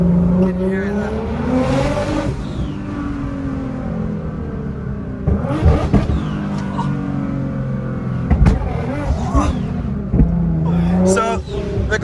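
A 700hp Nissan GTR engine revs loudly and climbs through its range, with rising and falling pitch and sharp crackles, heard up close over a voice talking.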